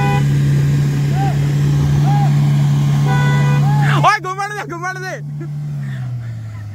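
Two Mahindra Thar 4x4 engines hold a loud, steady low drone while pulling against each other in a tug of war. Excited shouting voices and horn-like tones rise over them, and the engine pitch sags near the end.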